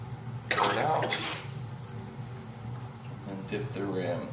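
Ceramic copper red glaze poured out of a pot, a short close splashing gush followed later by a quieter trickle, with a person talking over it.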